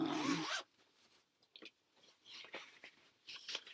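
A zipper on a fabric pouch is drawn with a quick rasp, followed by faint rustling and a few soft scratchy pulls on fabric, close and quiet.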